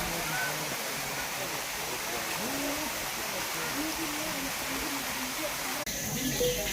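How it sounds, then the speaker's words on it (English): A small natural waterfall flows steadily as a broad, continuous wash of water, fairly close and constant, with a brief dip and shift near the end; faint voices may sit beneath it. "It's just this little waterfall that you're supposed to naturally be able to climb"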